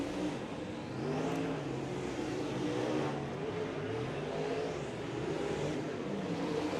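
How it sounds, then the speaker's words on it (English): UMP Modified race cars roar during dirt-track qualifying, engines revving continuously and rising and falling as they circle the track at Tyler County, loud and sustained with no talk. "we're ready to go qualifying for 2 circuits in our third group of UMP Modifieds"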